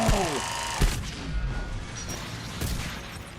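An explosion in the video game Mass Effect 3 booms loudly at the start, followed by a sharp secondary crack and a rumbling debris-filled tail amid ongoing combat noise.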